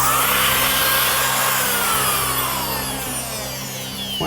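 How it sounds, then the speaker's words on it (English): A rotary cutting tool spins loud and close while cutting drywall on a ceiling, one continuous high whine with a rasping edge that eases slightly toward the end. "Now we'll bring the rotors in."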